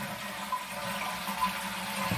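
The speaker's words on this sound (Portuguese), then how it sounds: "Segura a descarga um tempo, legal." Water rushes from a toilet flush driven by a Hydra flush valve, a steady close hissing flow with a faint low hum beneath and no talking.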